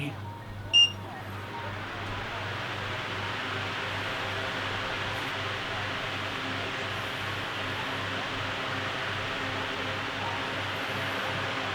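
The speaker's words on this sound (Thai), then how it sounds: "เดี๋ยวผมจะลองเปิดแบบเบอร์ 3 แรงๆ ให้ดูนะ ว่าเสียงดังสุดมันประมาณไหน" Steady, even whoosh of a Xiaomi Standing Fan 1C electric fan running at top speed 3, continuous throughout after a brief click near the start.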